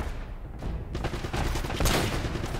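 Dragunov sniper rifle fire in Uncharted: Drake's Fortune: loud close shots crack out near one and two seconds, set among rattling gunfire and battle noise.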